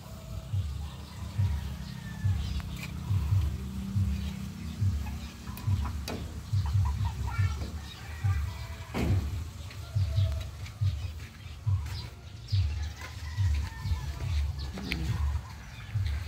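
Large chickens cluck and murmur in a low, continuous, uneven chatter near a newly built coop, with a few faint higher calls and scattered soft knocks in the background.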